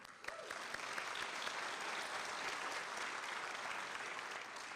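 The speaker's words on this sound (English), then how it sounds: "That's another hand clap." Audience applause at the Palm Beach Maritime Academy 2023 high school graduation, a steady wash of many hands clapping at moderate distance, filling the hall evenly throughout with no voices standing out.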